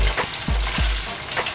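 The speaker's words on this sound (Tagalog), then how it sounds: "Ito saglit lang to. Mabilis lang to maprito or maluto." Already-cooked Vienna sausage fries in hot oil for Marikina-style menudo, giving a loud, close, crackling sizzle with a few soft thumps as pieces shift in the pan.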